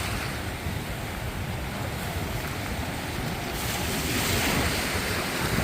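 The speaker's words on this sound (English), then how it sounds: "Look at the ocean." Ocean waves wash steadily at a beach on a calm, flat sea, a continuous broad rush mixed with wind noise on the microphone, with no talking.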